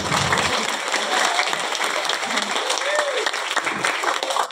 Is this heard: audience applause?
yes